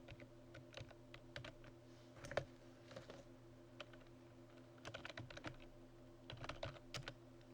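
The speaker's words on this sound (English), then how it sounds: "I'm going to type my name" Someone types a name on a computer keyboard, a quiet run of irregular key clicks in short bursts with brief pauses, close against a faint steady hum.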